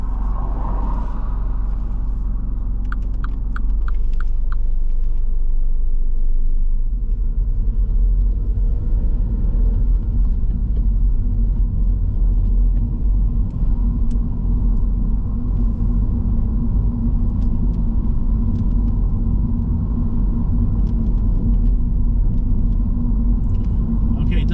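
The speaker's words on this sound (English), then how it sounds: "And then drive on when safe to do so." A learner driver's car rolls along during a mock driving test, a loud steady low engine and road rumble heard from inside the cabin, with a few faint clicks early on.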